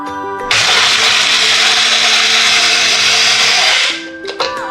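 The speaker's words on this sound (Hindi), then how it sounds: "इसलिए इसको मैं ऐसे ग्राइंड कर रहा हूँ" A kitchen grinder starts up and roars loud and steady while grinding moist sun-dried lentil wadi dumplings, then winds down and stops, with a couple of knocks after it quiets.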